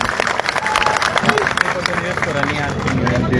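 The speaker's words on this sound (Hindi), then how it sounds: "एक बार जोरदार तालियां मुख्यमंत्री जी को।" A crowd at a protest site gives loud applause for the chief minister, dense clapping mixed with crowd noise and voices, steady throughout.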